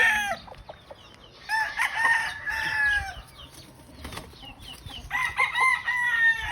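A Gilmore Hatch broodcock rooster clucks and crows close by, with several loud crowing calls and short clucks separated by quieter gaps.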